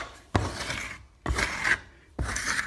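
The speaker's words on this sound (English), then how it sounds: "we'll give this a bit of a scrape back" A tool scrapes back a repaired lath and plaster wall in three long rasping strokes, close and fairly loud, with short pauses between them.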